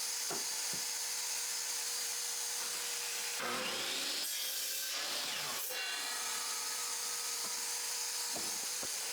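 A saw cuts through pallet hardwood stool legs pushed against a stop block, giving a steady rasping whine with two louder surges of the blade biting through the wood, with tool noise throughout and no voices.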